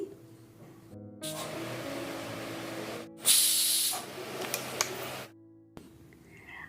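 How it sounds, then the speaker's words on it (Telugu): Pressure cooker on high flame cooking rice semolina for mamidikaya pulihora, giving a long loud steam hiss that surges sharply midway, then cuts off, with no talking. "కుక్కర్ మూత పెట్టేసి హై ఫ్లేమ్లో రెండు విజిల్స్ రానివ్వాలి"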